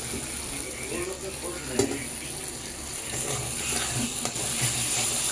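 Bhola fish tel jhal masala, with slit green chillies just added, sizzles on high flame in oily spice paste, a close, continuous frying hiss with soft stirring sounds.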